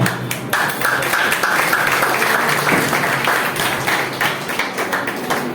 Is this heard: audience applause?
yes